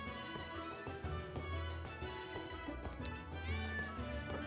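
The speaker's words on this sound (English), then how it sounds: "Pet for the cat." A cat meows repeatedly in the Travellers Rest video game, several clear meows over a busy background of game music and ambient sounds.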